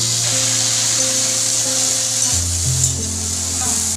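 Oil sizzling in a kadai before garlic and greens go in, a steady close frying hiss with a low hum running underneath.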